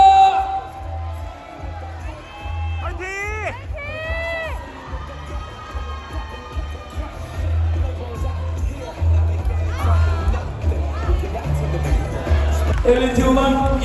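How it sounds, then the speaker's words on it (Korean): Crowd at a CrossFit competition in Jeju cheers and whoops steadily for about fourteen seconds over thumping bass-heavy music, with voices shouting throughout and a louder swell near the end. "함성을 부탁드립니다."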